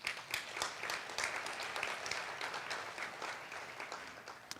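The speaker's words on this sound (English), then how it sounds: "Give yourselves a round of applause." An audience at an opening-remarks session of a basic-needs convening claps steadily, a sustained wash of many hands at moderate distance that fades slightly toward the end.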